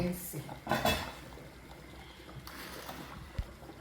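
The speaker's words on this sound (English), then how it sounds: "Now let's check on our soup. I'm gonna stir." Stirring Uha soup in a cooking pot, with a few soft clinks and scrapes of a utensil against the pot wall near the start, then quiet kitchen background and one sharp tap near the end.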